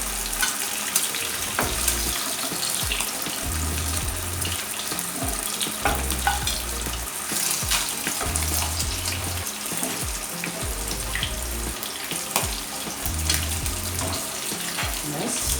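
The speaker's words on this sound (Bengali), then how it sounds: "আমুদি মাছের ফ্রাই হয়ে গেল।" Amudi fish pakoras fry in hot oil, giving a steady, close sizzle and bubbling throughout with occasional stirring clinks.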